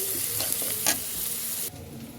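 A spicy crab mash is stir-fried in a pan, giving a loud, even hiss with light scraping strokes that drops away sharply near the end.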